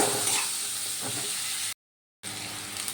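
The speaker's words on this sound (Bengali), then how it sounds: "সেই পেঁয়াজগুলো দিয়ে দিলাম দিয়ে এবার একটু ভালো করে ভেজে নেব" Chopped onions fry in a pan with a steady broadband sizzle and hiss, continuous and fairly close, broken by a short silent gap before the frying resumes.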